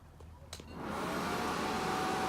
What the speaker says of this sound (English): we're going to start up the hair dryer now